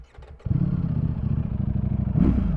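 A Ducati Streetfighter V4S engine fires up close by and settles into a lumpy, throbbing idle, then gives a brief blip of the throttle near the end.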